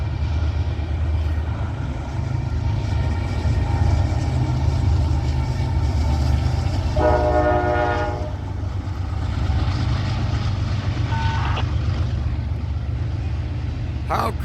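A Norfolk Southern or CSX freight train rumbles past with a steady low drone, sounding a short horn blast partway through and a fainter brief toot a few seconds later.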